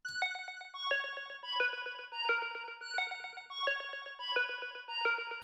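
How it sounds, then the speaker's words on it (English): Synth plucks from the Analog Lab Bellissima preset play a bright repeating melodic pattern of short, bell-like notes with ringing overtones, clear and alone. "And one final melodic part are these synth plucks,"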